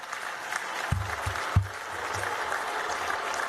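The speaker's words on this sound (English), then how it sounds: "they're getting a great round of applause" Outdoor crowd applause during a university commencement as graduates walk out, a steady distant wash of clapping with a few dull thumps and handling bumps near the microphone.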